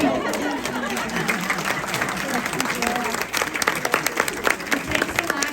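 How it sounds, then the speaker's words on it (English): An audience at a community tea party in Bouse applauds library volunteers, with steady close clapping mixed with crowd chatter and voices throughout, growing more scattered toward the end. "we can applaud you for all your work"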